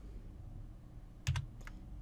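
Quiet computer keyboard keystrokes nearby, a few separate taps followed by a short cluster of presses over faint background noise, with no one speaking.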